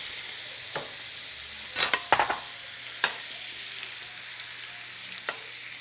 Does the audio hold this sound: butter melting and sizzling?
yes